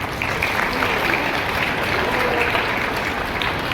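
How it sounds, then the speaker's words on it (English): A school audience at an Independence Day celebration breaks into applause, a continuous, fairly loud wash of clapping from a large crowd that holds steady for the whole stretch. "A huge round of applause."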